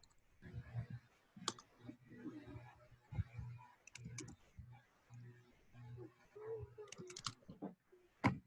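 Typing on a computer keyboard: quiet, irregular clicks of keys pressed in short runs, faint and close, heard under and between a person's speech.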